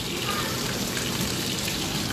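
Fish fries in hot oil in a pan covered with a lid, giving a steady, dense crackle and spatter like heavy rain, close and continuous throughout.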